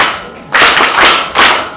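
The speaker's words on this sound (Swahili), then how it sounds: "Mpigeni makofi" A group claps for a child in a church gathering, two loud close bursts of rapid clapping separated by a brief lull, with no talking.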